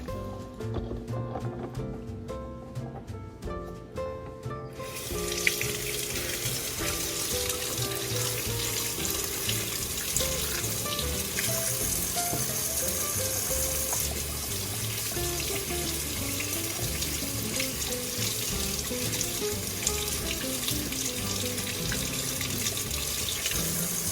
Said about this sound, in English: I'll wash my eggs and get them ready.